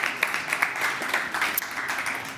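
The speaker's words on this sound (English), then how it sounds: "Another round of applause for our last startup of the first batch." An audience at a circular-fashion startup demo day applauds the final pitching startup of the first batch, a steady wash of many clapping hands, moderately quiet and slightly distant, with a few sharper claps standing out.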